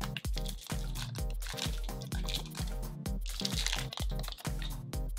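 Water squishes and crinkles inside a sealed Treasure X toy package as it is handled, with irregular wet squelches and crackly plastic rustles close up, while a light tonal background plays underneath.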